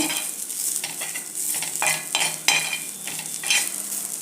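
Onion, grated coconut, ginger and garlic sautéed in a pan for a sprouted moth bean curry masala, a spatula scraping and stirring in steady strokes over a bright, close sizzle.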